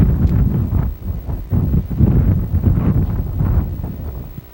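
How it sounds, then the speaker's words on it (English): Gusty wind buffeting the microphone at an outdoor soccer match, loud low rumbling bursts that rise and fall irregularly, close and alone. "it is a windy day here today"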